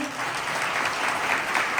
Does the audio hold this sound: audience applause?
yes